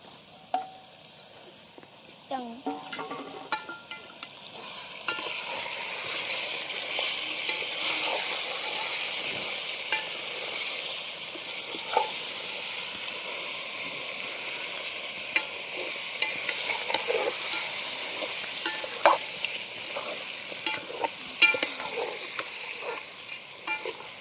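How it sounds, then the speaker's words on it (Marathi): Village chicken sizzles in a pan of fried masala while a spoon stirs it, a steady crackling fry with scraping stirs and small clinks, moderately loud and alone. "मसाला चांगला तळून घेतला आता मटण टाकून घेते"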